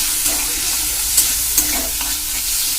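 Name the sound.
frying spices with chili powder in a pan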